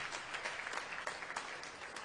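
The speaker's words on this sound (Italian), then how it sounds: "Diamo un applauso, facciamo un applauso." Brief, faint applause from an audience at the Books for Peace award ceremony, a dense patter of clapping heard from some distance.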